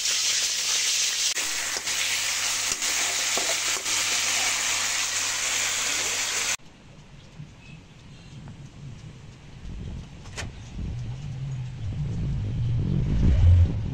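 Vegetables and stalks sizzle loudly in a hot pan while a Bengali katla fish-head chorchori is cooked; the bright, steady frying hiss drops sharply to a quieter, lower sizzle partway through.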